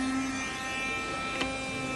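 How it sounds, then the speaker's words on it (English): A Karcher window vacuum runs as a steady, moderately loud electric motor drone with a faint constant hum, holding even throughout with one brief click near the end. "then we've got our vacuum cleaner, turn it on"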